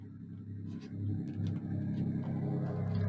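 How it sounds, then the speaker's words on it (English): A low engine rumble swells as a car or truck passes nearby outside, building in loudness and holding steady toward the end. "a loud car or truck going by."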